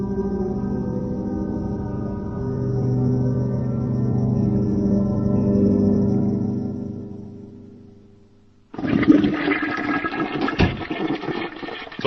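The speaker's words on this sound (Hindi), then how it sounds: "सॉरी, 2 बार फ्लश करना पड़ा।" A toilet flushes in a bathroom in an animated action film, a long swirling rush of water that fades out before a second, brighter gush of water starts abruptly near the end.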